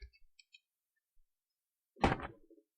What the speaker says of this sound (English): Hey, there was a click.